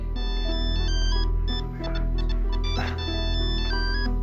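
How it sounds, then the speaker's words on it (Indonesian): A mobile phone ringtone plays a bright electronic melody, repeating its phrase steadily and loudly, with no talking. "Fit handphone kamu bunyi ini"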